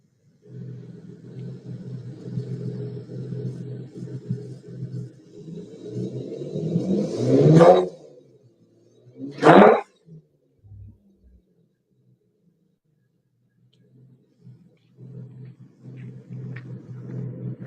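A fuel-injected car engine idles with a steady rumble, swells into a rising rev, drops away, then gives a second sharp blip before settling back to a low idle, heard up close and alone.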